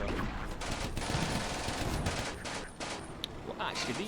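Machine gun firing at an advancing infantry squad in the video game Combat Mission Barbarossa to Berlin, dense bursts of gunfire layered over battle noise, moderately loud and continuous, with a voice talking faintly underneath.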